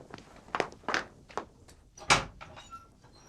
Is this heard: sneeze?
no